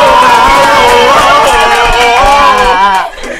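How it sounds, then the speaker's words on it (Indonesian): Comedy show audience at an Indonesian stand-up event, loud sustained crowd noise with cheering and clapping merging into a dense wash, continuous and near, fading sharply at the end. "Tepuk tangan untuk Argentina."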